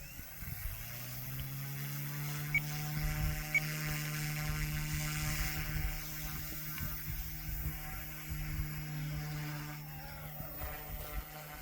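An OMPHOBBY M2 V3 PRO RC helicopter is in flight, its rotor and motor giving a steady buzzing whine with tonal harmonics that shift as it moves. There is no talking.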